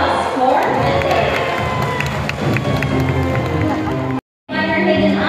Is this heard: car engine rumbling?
no